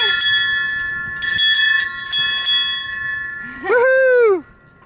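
Bicycle bell on a ride at Disney World, a few bright metallic rings in quick bursts heard close by, followed by a rising and falling squeal; no clear talk over it.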